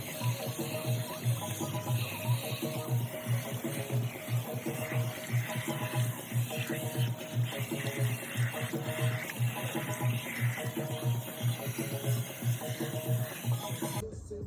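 Water runs steadily while shampoo is rinsed out of hair, a continuous broadband hiss over a low, rhythmically pulsing hum that lasts the whole stretch.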